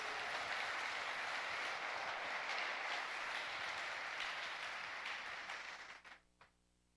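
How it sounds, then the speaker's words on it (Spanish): Church congregation applauding at a worship service, steady dense clapping filling the room for about six seconds before fading out abruptly. "Dele fuerte ese aplauso al Señor."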